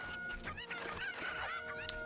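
Chickens, called cuckoos, cluck and chatter in a busy layered flock throughout Ocarina of Time, fairly close, with no talk over them.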